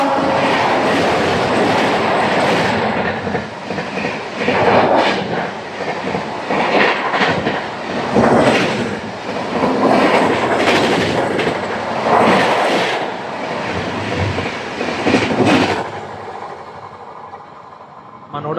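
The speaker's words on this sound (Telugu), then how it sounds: "12703 ఫలక్నామా ఎక్స్ప్రెస్." The 12703 Falaknuma Express passes close by in India, heard from aboard a double-decker train held on a side line: loud rolling rumble with repeated clickety-clack wheel beats and brief squeals, fading near the end.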